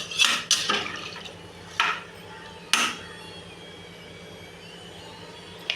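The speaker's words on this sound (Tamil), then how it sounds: "ஓகே, இப்போ நல்லா இதை ஒரு கிண்டிக்கலாம்." Rice and hot water are stirred in a pot for South Indian ghee rice. A few sharp clinks and scrapes of a utensil against the pot come early, then only soft sloshing liquid remains.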